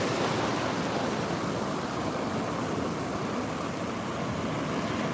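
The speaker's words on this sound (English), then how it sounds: "These are all little waves at the moment." Small ocean waves breaking well offshore at a surf spot, a steady, dense wash of surf noise with no distinct individual breaks and no voices.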